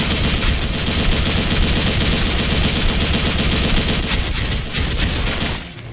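Sustained automatic fire from an RPK74 light machine gun in the shooter game Special Force 2, a dense, continuous rattle of rapid shots, loud and close, running for several seconds before easing off at the end.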